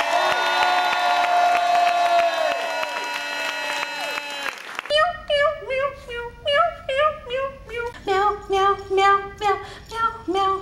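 An audience at the 2001 Meow Mix jingle contest applauds and cheers in a dense, loud wash for several seconds, then voices sing a rhythmic string of imitated meows.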